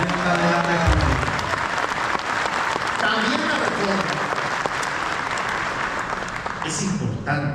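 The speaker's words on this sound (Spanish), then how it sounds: "Un aplauso a la presidenta de la República." Applause from an audience at a Michoacán government event on an Indigenous constitutional reform, honoring the President of the Republic; steady clapping fills the room while a speaker keeps talking over it.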